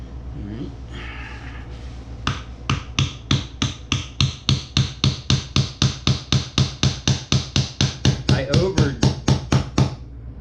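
A wooden dowel is tapped down into a drilled hole in live-edge wood with about thirty fast, even knocks, close and loud, the strikes speeding up and growing more forceful toward the end.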